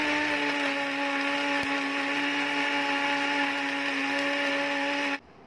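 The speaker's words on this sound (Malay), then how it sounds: "Masukkan tulang ke dalam jug blender dan air." A blender jug grinds fish bones with water for northern-style laksa, a loud steady motor whine with a rough grinding edge that runs unbroken for about five seconds, then cuts off abruptly.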